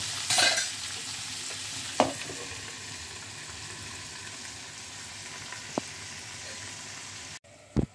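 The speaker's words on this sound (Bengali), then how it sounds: "কুমড়োটা দিয়ে একটুখানি ভেজে নেব।" Pumpkin pieces fry quietly in a pan under a lid, giving a soft, steady sizzle with a few isolated clinks and knocks.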